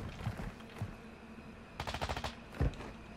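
Sniper gunfire in an online shooter video game: a few sharp, distant cracks, with a rapid burst of shots in the middle and a heavier blast near the end.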